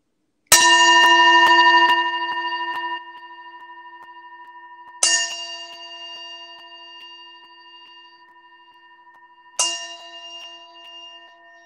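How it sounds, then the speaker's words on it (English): A meditation gong struck three times, each sharp strike blooming into a long shimmering ring that slowly fades, the first loudest and the next two softer, alone in a quiet room. "I'm going to hit this gong 3 times"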